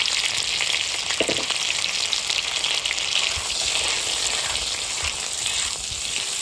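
Potatoes fry with cumin seeds in a hot pan, giving a steady, close sizzle and hiss that runs unbroken from start to end, with no voices over it.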